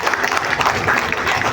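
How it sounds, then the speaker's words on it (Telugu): An audience at a club members' gathering breaks into applause, a dense, steady burst of clapping close by and fairly loud for a moment. "చప్పట్లు కొట్టొచ్చేమో"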